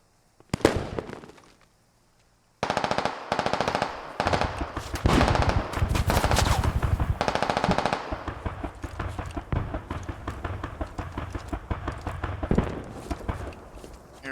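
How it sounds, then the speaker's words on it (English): Gunfire in the video game Squad during a scrim match, with rapid bursts of automatic fire and sharp single shots, a short pause, then dense continuous volleys of near and distant shooting. "Hearing a lot of shooting,"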